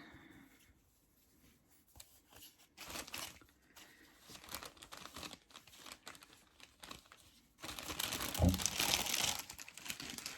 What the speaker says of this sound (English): Sorry for the crinkle.